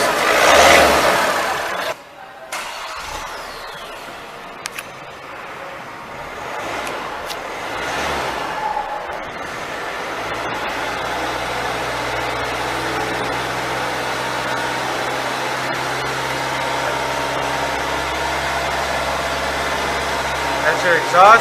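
Exhaust of a 2017 Hyundai Accent sedan idling, a low steady drone heard close after some handling noise at the start, continuous and even to the end.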